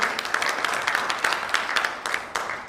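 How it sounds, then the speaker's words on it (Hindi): An audience at a seminar claps in a brief burst, a dense patter of hands with sharper accented claps standing out, moderately near and without talk. "जोरदार तालियां चाहूंगा दोस्तों"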